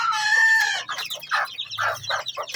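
Hens and a rooster kept in cages at a home chick-raising setup, a loud drawn-out crow followed by a rapid series of close, bursty clucks.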